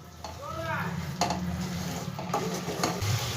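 Yogurt and spices with chicken stirred in a pan over low flame, a soft sizzle with scraping stir strokes while someone speaks briefly.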